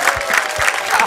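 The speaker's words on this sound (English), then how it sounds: "Give yourselves a round of applause." A game show studio audience applauds, a continuous and fairly loud wash of clapping that lasts about a second.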